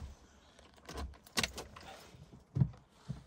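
Keys jangle while someone tries to start an old car, sounding as several close, sharp metallic rattles and clicks in irregular bursts with quieter gaps between them.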